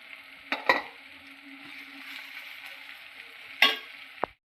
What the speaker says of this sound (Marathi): तर असा लाल परतून घ्यायचा कांदा चांगला.